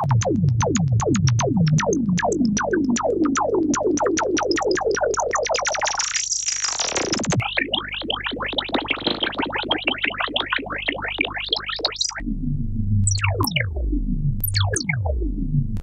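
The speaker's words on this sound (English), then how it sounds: "So what you're hearing are three filters resonantly feeding back but slightly out of phase with each other." Three resonant analog filters self-oscillate and feed back slightly out of phase, driven by Game Boy controllers: loud, continuous, warbling tones that sweep and glide up and down, with one rising whine part way through and no pause.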